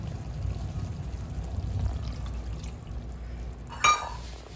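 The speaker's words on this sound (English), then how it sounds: "And then 3/4 cup of water, and then stir and simmer." Water, three-quarters of a cup or more, is poured into red chili enchilada sauce with chicken. A soft, fairly quiet pour sits over a low kitchen hum, and a short, brighter splash or clink comes near the end.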